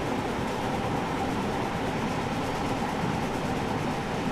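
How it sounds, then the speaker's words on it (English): Steady, loud rumble and rolling rail noise from a maroon train running in Train Sim World 3, a continuous even drone with no talking over it. "that maroon train's got me curious"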